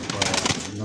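A red Lahori pigeon at a market stall gives a short, close run of soft throaty cooing pulses, with market voices and background noise around it.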